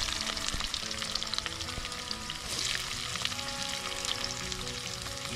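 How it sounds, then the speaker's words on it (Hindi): Onions fry in hot oil at an outdoor forest campsite, giving a steady, dense crackling sizzle close up that runs unbroken throughout, with faint stirring and no talking. "ऑयल देखो अच्छे से गर्म हो गया, अभी प्याज डाल देंगे"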